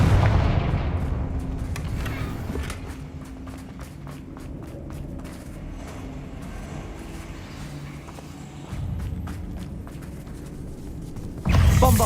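Confringo and Bombarda spell blasts in Hogwarts Legacy, a series of sharp percussive bursts over a dense rumbling battle bed, with a louder impact near the end.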